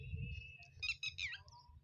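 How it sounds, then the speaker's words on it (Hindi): Birds call outdoors in a short cluster of high, quick chirps and tweets, fairly faint over a low background rumble. "क्या पंछी बोल रहा है"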